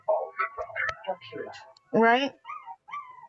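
Huskies let out a brief, rising and falling harmonic howl, followed by a couple of shorter wavering cries. Close and fairly loud, woven between excited talking.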